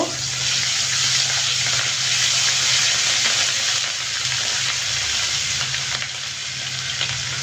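Ginger and garlic paste hits a pan of already-fried onions with a loud, continuous, hissing sizzle close up. It holds steady throughout under light stirring, with no one talking.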